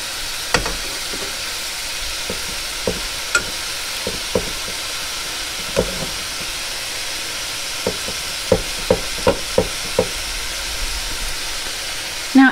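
Bacon-wrapped duck breast fries in a pan with a steady sizzling hiss, punctuated by scattered clicks and taps of utensils against the pan throughout.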